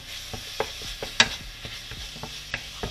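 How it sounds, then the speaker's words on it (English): Ground meat browning in a frying pan for a homemade Mexican pizza, stirred with a utensil in repeated scraping strokes over a steady sizzle, close and clear, with no talk. "You just want to give your meat a stir."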